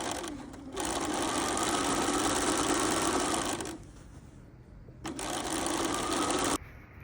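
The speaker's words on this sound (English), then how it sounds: "sew your shoulder seams at a 5/8 inch seam allowance along here" Sewing machine stitching garment shoulder seams at a 5/8 inch allowance, loud and close, whirring in two sustained runs with a brief stop between them.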